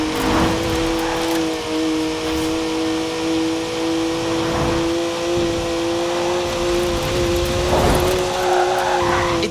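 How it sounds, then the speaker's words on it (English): A BMW 1M in Forza Horizon 4 drives with a sustained engine drone and steady harmonic tone, loud and close, rising slightly in pitch near the end, with no one speaking. "It's a BMW, so of course it's rear-wheel drive."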